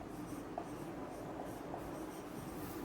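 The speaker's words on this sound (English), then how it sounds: "I just write down on the board" Writing on a classroom board during a science lesson about flowers, a steady scratchy scrawl running continuously at close range with no talking.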